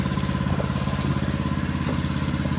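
A two-stroke weed eater engine runs steadily nearby with a loud, buzzing, even drone that holds without a break.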